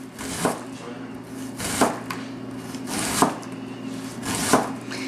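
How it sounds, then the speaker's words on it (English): A knife slices down through food on a cutting board while preparing posole, four evenly spaced firm chops, close and distinct over a faint background hum. "turn it around, hold it from the back with your fingers like that, so that way if the knife tries to cut anything, it won't. Your knuckles are right there. And slice down."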